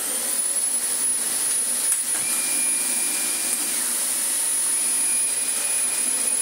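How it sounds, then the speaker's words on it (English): A Dyson DC25 upright vacuum cleaner runs steadily during a test after a brush roll fault fix, giving a constant loud motor roar with a high whine on top, alone and without pause. "do a test vacuum just to make sure that that was a complete success"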